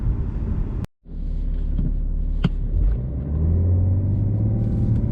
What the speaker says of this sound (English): So driving the 530D,